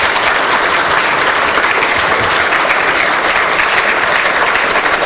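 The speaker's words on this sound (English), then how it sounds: "please give Christina a big round of applause" A conference audience gives loud, sustained, even applause after a talk on open source in New Zealand schools, the dense clapping filling the room without a break.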